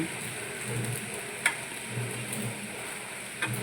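Carrots tossed with chili powder fry in a pan with a steady close sizzle and occasional stirring scrapes, no one talking over it.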